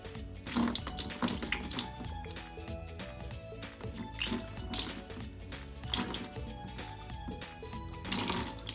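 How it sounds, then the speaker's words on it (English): Water poured into a plastic tube for a homemade kayak bait tank, splashing and trickling in uneven gurgling bursts, close and fairly quiet over a faint background. "we have to fill water into this tube"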